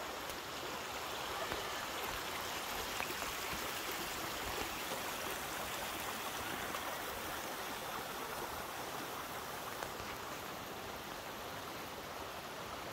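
Streams near the Aggtelek cave, Jósvafő lake and Jósva spring babble in a steady, continuous rush of flowing water. It sounds close and even, with no voices.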